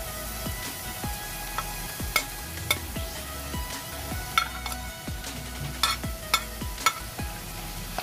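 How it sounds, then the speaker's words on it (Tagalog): Chicken frying in a pan for chicken sisig with plenty of onion, a steady sizzle under repeated sharp clinks and scrapes of a utensil against the pan, close and fairly quiet. "Next, lagay na natin ang chicken."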